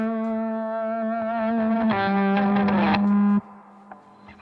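Guitar feedback from a Boss GT-1000 Feedbacker effect in oscillating mode, a sustained distorted tone that swells and grows harsher with rising overtones, then cuts off abruptly, leaving a quiet hum.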